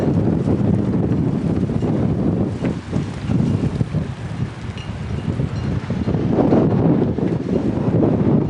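Strong north wind roars and buffets the microphone continuously, a loud, steady rumble with gusty swells and no voices.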